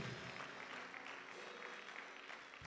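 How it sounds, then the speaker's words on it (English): Church congregation clapping hands during a fasting prayer service, a steady dense wash of applause that holds at an even level throughout with no pauses. "Clap for Jesus."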